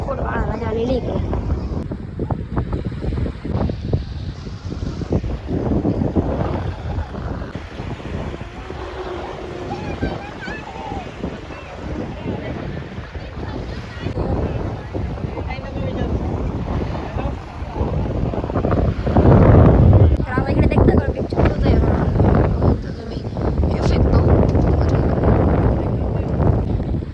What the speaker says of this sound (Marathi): इकडे पुढे हवा चाललेली आहे